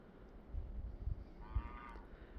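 A single goose honk rings out faintly over a rumbling outdoor background in snowy winter weather, brief and somewhat distant.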